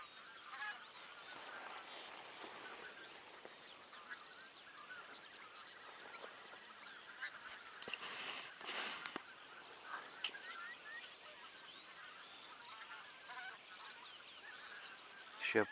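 Geese and swans call across open water during a spring hunt, with two loud bursts of rapid honking from a flock rising over a steady backdrop of fainter, scattered calls and wingbeat-like rustles.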